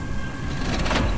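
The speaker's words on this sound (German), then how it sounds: "Wir machen mal die Tür auf." A door opening in the stealth game Thief, a short mechanical slide and creak that swells toward a louder scraping finish.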